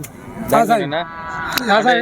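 Buffaloes at a cattle market in Husnabad, Telangana, let out two loud, close, drawn-out lowing calls separated by a short pause.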